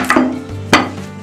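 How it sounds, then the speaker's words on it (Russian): A knife cuts through raw pumpkin on a board, two sharp chopping strikes landing close and loud, with no talking. "Тыкву я нарезаю, ну, вот такими кусочками, где-то 3-4 сантиметра."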